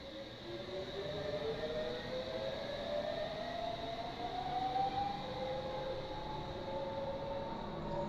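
A recorded real-life train heard in a train simulator game, a steady rolling rumble with a long rising then falling warning tone sweeping across it, continuous and fairly distant with no talk.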